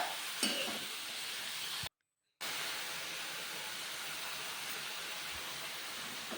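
Bottle gourd pieces sizzle faintly in a pan under a steady hissing wash, with a few soft stirring knocks near the start and a brief full cut to silence partway through; no one speaks.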